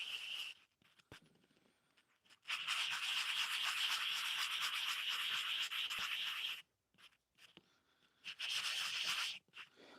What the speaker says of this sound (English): So I'm just going to kind of sand down the sides here a bit,